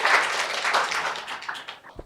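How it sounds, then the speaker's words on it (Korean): Short burst of audience clapping at an academic presentation event, fairly quiet and thinning out within about two seconds. "큰 박수 부탁드리겠습니다."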